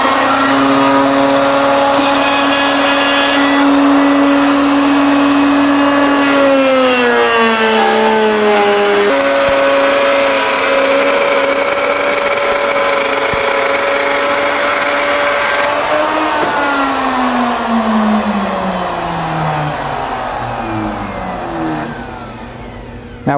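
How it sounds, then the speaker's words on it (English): A plunge router cuts a two-start barley twist into a wooden candlestick holder, giving a loud, steady motor whine that dips and slides in pitch as it bites the wood, easing off near the end. "Now we're going to raise the plunge or the router just a little bit so that when we make our first pass, it's not cutting the full depth."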